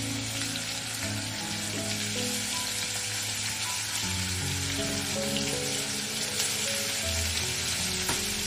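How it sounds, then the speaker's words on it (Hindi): Paneer fries lightly in a pan with a steady, dense sizzle that holds at an even level throughout, close and without talk. "इसको हल्का सा बस बाइंडिंग की, ये टूटे नहीं, उसके लिए हल्का सा हमको बस फ्राई करना है पनीर को"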